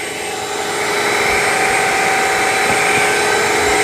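A Bissell CrossWave OmniForce 3882 cordless wet-dry vacuum spins its brush roll dry with a loud, steady motorized whir that holds constant for several seconds, close and alone.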